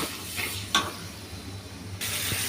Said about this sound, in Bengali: এটা একটু ভাজার পরে চিংড়ি মাছগুলো এখন একটু পানি দিয়ে দিই